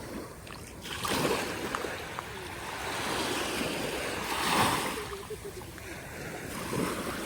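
Sea waves surge and wash continuously, with rushing swells rising and falling under gusty wind buffeting the microphone.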